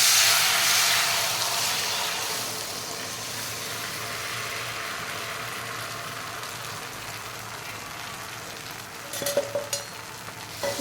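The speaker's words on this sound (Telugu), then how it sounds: "ఇప్పుడు కొంచెం మళ్ళీ నెయ్యి వేస్తున్నానండి. ఇవ్వండి, నేను పాలు పోసేస్తున్నాను." Milk is poured into hot ghee and ragi in a pan on a stove, starting with a loud hissing sizzle that fades to a steady bubbling, followed by a few clinks of utensils near the end.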